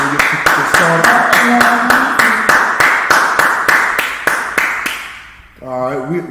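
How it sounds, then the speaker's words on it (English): Audience clapping in unison at a law class gathering, loud steady rhythmic claps close by, with chanting voices over them before the claps fade and a voice speaks. "All right, clap it up, clap it up."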